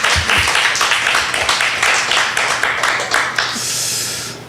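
A church congregation breaks into loud, close applause, a dense wash of many hands clapping together for a few seconds before it quickly dies away.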